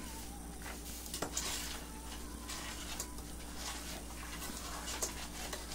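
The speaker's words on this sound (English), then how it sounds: "Stir this up right here" A no-bake cookie mixture is stirred in a medium-sized pot as it heats toward a boil, giving a steady soft scraping and bubbling sizzle with a few light clinks of the spoon against the pot.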